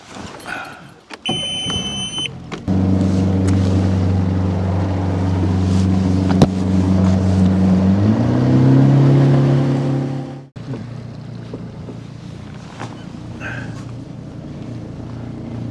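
A fishing boat's outboard motor drones loud and steady while running between fishing spots, pitch rising as it speeds up, with wind buffeting the microphone before the engine cuts off abruptly and leaves quieter water and wind noise.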